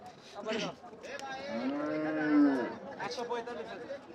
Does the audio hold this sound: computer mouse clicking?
no